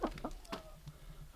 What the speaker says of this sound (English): I've always liked the noise chickens make for some reason.